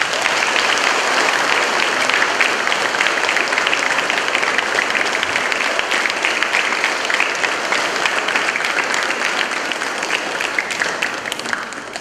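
A church congregation gathered for a diocesan bishop's visit with the Châu Mạ ethnic community breaks into loud, sustained applause, dense and steady from start to finish before thinning slightly at the very end.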